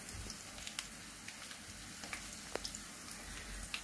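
Potato croquettes stuffed with kefta fry quietly in a pan of oil, a soft continuous sizzle flecked with small irregular pops and crackles, close and low in level with no talk.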